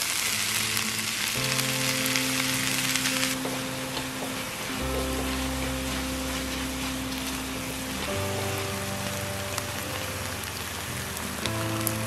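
Onions, mushrooms and tomatoes sautéing in a pan, a dense continuous sizzle like heavy rain, with a steady low hum underneath and no voices.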